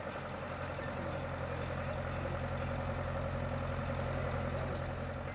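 Vintage stationary engines run steadily at a pioneer fair, a continuous low mechanical drone with a faint rhythmic chugging, heard alone without talk.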